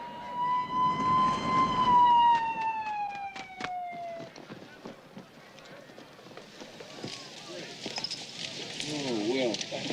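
Ambulance siren wailing loudly and close at the start, its tone sliding downward before cutting off, followed by commotion and scattered voices.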